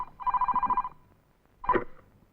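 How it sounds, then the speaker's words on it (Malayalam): A telephone rings with a rapid trilling bell for nearly a second, then a short second ring follows after a pause. "ആഹാ, ഫോൺ വന്നല്ലോ."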